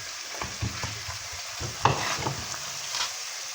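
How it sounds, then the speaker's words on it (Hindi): Masala with tomatoes frying in a pan, a close soft sizzle broken by a few irregular scraping stir strokes and one sharper clink, with no talking. "अब हम इसको अच्छे से फ्राई कर लेंगे।"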